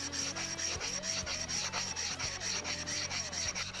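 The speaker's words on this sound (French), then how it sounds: "on sait au bruit que fait la pierre diamantée qu'on a une surface parfaite" A Japanese plane iron is rubbed back and forth on a diamond sharpening stone, producing a continuous rhythmic gritty scraping close by with a faint high whine.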